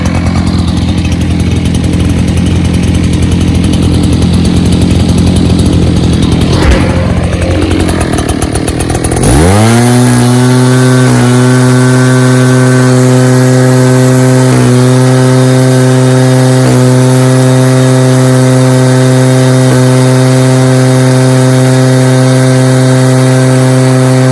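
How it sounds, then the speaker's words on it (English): A backpack leaf blower, an Echo 9010 or BR800, winds down, then restarts and runs loud and close at a steady high roar. "this blower is gonna blow a lot into there because it has a wide pattern"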